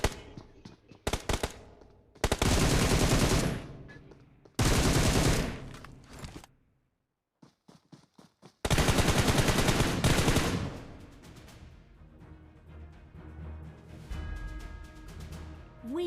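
Automatic gunfire in the PUBG Mobile video game: several loud, rapid bursts of machine-gun fire separated by short pauses and a brief silence, then a long sustained volley that fades into lighter background noise.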